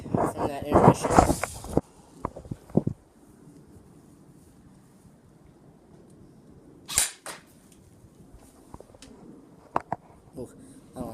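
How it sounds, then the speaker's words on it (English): Airsoft guns fire BBs in a short rapid burst of sharp pops near the start, a few more snaps follow, then scattered single shots and one loud crack later, with quiet outdoor stretches and bird calls between. "BBs are flying. Oh my god, you shot like right above me."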